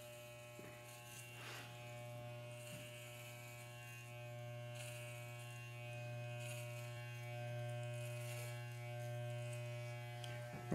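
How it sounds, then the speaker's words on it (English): An electric razor cuts hair during a self haircut, giving a steady, close electric buzz that carries on without a break, its tone wavering faintly as the blade moves through the hair. "the razor doesn't seem to want to cut anymore."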